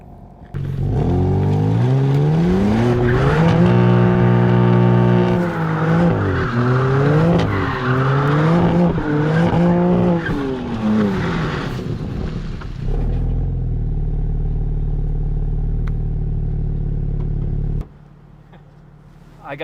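A tuned BMW G87 M2 with an upgraded intake, intercooler, manifold and software drifts with loud, wavering tire squeal over a revving engine, then settles into a steady low engine drone before cutting off.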